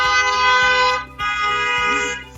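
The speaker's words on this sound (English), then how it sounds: "Just some honking." Car horn from a Toyota honking in long sustained blasts, loud and close, with a short gap before a second extended honk.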